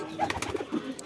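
Pigeons in a loft, a brief burst of soft throaty cooing up close, with faint background noise and no clear speech.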